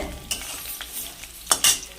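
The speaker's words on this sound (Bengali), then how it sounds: "মূলোগুলো আর আলুগুলো একটু একটু ভাজা হয়ে এসছে" Radish and potato pieces sizzle in a frying pan while a spoon stirs them, soft steady frying under scraping strokes, with two louder close scrapes near the end.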